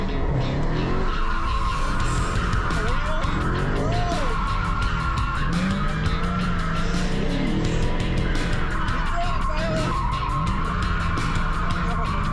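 A Dodge muscle car on a thrill ride at a Barrett-Jackson event accelerates hard with a continuous loud engine roar and wavering tire squeal, heard close from inside the car, with faint talk underneath.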